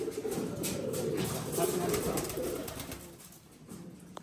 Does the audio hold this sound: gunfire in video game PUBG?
no